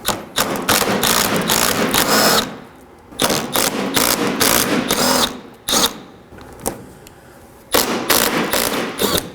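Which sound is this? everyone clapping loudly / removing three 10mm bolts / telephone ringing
removing three 10mm bolts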